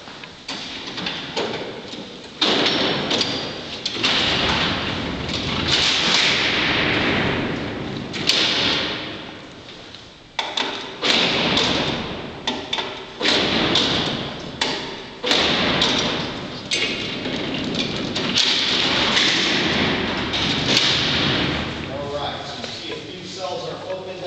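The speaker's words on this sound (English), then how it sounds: "I'm going to close up the 14 cells here" Heavy steel cell doors at Alcatraz prison are closed, about fourteen cells in all, as a series of loud metallic slides and booming slams that echo through the cellhouse, with people talking throughout.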